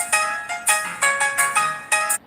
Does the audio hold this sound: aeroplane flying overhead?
no